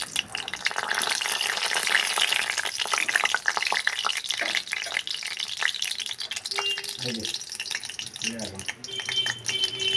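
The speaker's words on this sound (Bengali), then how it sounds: "সর্ষের তেল গরম হলে দেব শুকনো লঙ্কা" Dried red chillies crackle and sizzle steadily in hot mustard oil, with some stirring clinks and a few soft knocks toward the end.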